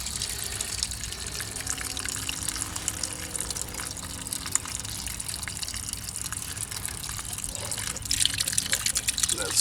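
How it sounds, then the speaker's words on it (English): Water draining steadily from a broken PVC pipe on a self-draining sprinkler system, a low continuous gush and trickle that grows louder near the end, with faint outdoor background noise. "I'm gonna see how much water I have left in there. So drain the rest of it"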